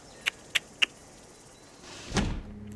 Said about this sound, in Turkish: Kapıyı niye kapattın